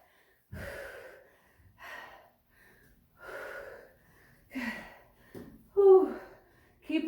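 Heavy, forceful breathing during a Pilates-style reformer workout: a series of strong exhales and gasps spaced every second or so, fairly close, with no talking over them.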